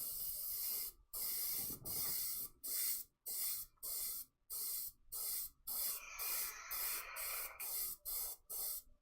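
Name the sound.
spray can spraying a wood-turned piece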